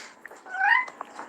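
A pet cat gives a single short, fairly faint meow indoors, rising and falling over under a second, with no talking over it.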